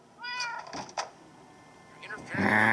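A cat in the Minecraft Story Mode game meows several times in quick succession, clear and fairly close, followed by a louder game sound, while someone talks over part of it.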